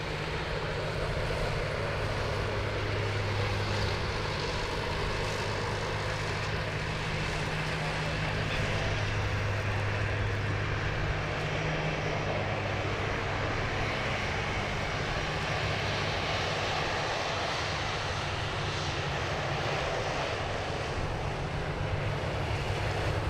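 Airliners at Sydney Airport, a Jetstar jet arriving and a Qantas jet departing, produce a steady, continuous low jet-engine roar heard from a distance alongside broadband wind and rumble, with no one talking.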